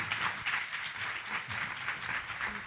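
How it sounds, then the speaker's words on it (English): An audience at the 36th annual SoCal Alzheimer's Disease Research Conference gives a closing round of applause: dense, steady clapping from many hands that fills the hall, with no one speaking over it. "Let's give one more round of applause."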